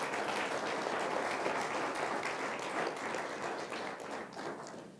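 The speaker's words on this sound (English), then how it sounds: "Round of applause." Steady applause from an audience after a business pitch at a lunch event, a dense wash of many hands clapping at moderate volume throughout, tapering slightly near the end.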